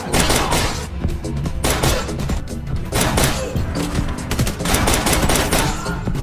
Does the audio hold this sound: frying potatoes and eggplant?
no